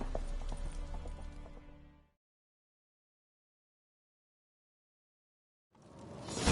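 Horse hooves galloping in The Witcher 3, loud for about two seconds with game music, then cutting to silence before the hoofbeats and music return near the end.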